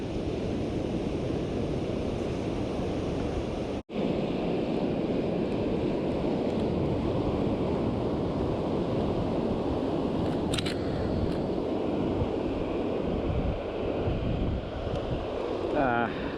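Ocean surf breaking on the shore at Carlsbad, California, a steady loud wash of waves with wind buffeting the microphone throughout.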